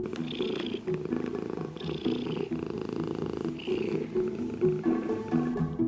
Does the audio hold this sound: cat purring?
yes